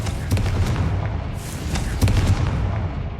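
A Confringo blast spell from Hogwarts Legacy bursts over a steady low rumble of game ambience, giving a couple of muffled booms with a brief bright whoosh in the middle.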